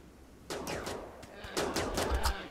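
Gunfire from colonists shooting a polar bear in Rimworld, a quick series of clipped, fairly quiet shots in two clusters.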